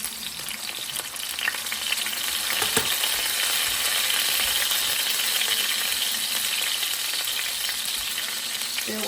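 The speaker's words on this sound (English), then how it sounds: "We're just going to sear these on both sides." Seasoned meat searing in a hot pan, a dense, continuous sizzle at steady loudness with occasional small clicks and rattles of handling, no one talking.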